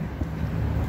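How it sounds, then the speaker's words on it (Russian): Steady low rumble of strong wind buffeting the microphone outdoors on a cool, overcast day near Peterhof, a constant roaring whoosh with no voices. "потому что сильный ветер."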